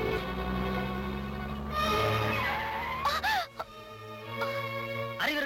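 A car skids on the road with sharp tire squeals cutting over its running engine, followed by a few abrupt squeaking bursts, loud and close.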